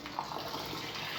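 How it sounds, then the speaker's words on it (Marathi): Whole masoor lentils are washed in water, giving a close, continuous running and sloshing water sound without talk. "तर आता मी 2-3 पाण्याने स्वच्छ हे अख्खा मसूर धुवून घेते"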